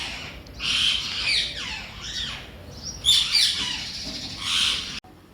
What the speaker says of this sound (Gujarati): 2 કાબર આવી ગઈ છે. ત્યાં ચોખા નાખ્યા છે ને તો ખાઈ રહી છે.